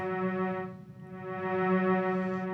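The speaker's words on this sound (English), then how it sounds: "what you're hearing is a drone pad on layer A" A Yamaha CK88 stage keyboard holds a steady sustained drone pad with rich layered harmonic tones, holding evenly without breaks and swelling slightly toward the end.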